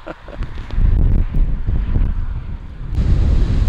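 Waves wash against a rough, ragged rocky shoreline at Cape Spear near St. John's, Newfoundland, with strong wind buffeting the microphone; a steady, loud churning roar of surf with no talk.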